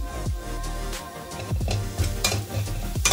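A vegetable dish of sole (green chickpeas) seasoned with hing and turmeric is stirred in a hot pan, with a spoon scraping and clinking against the metal over a steady sizzle and no talking.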